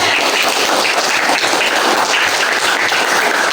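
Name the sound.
class clapping hands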